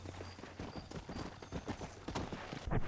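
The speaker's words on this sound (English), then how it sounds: "Olha no cavalo, tá aqui." Horse hooves clip-clop steadily at a walking pace in Red Dead Redemption 2, fairly faint and close, with a soft snort or whinny at the very end.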